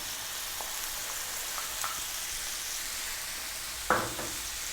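Chicken and onion fry quietly in a pan with a steady soft sizzle, broken by a few light stirring clicks and one sharper scrape near the end.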